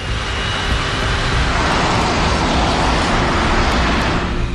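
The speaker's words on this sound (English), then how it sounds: "The flight data recorder reveals that he opens the throttle." KLM airliner jet engines spool up to takeoff thrust on the runway, a loud, steady broadband roar that holds without a break from start to finish.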